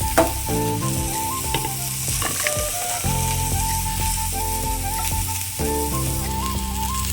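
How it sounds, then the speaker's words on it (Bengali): Cauliflower sautés in a pot for a Bengali vegetable khichdi, making a constant close sizzle and crackle under tuneful background music. "কপিগুলো কষানো হতে থাক।"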